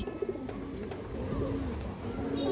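Pigeons kept for sale give low, soft throaty coos, quiet and brief, with a faint background murmur.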